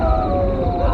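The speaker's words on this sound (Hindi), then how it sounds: "सियार और कुत्ते जोर जोर से रोने लगते हैं।" Jackals and dogs howl loudly together as a dramatic sound effect, a sustained wavering wail that fills the short moment.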